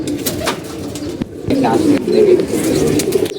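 Close cooing of a racing pigeon back home, soft throaty murmurs repeating through the clip with some rustling and faint background noise.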